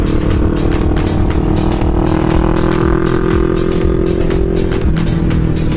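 A motorcycle ridden during practice, its engine droning loud and close in a steady buzzing roar with a gear-like pitch shift partway through, no talking over it.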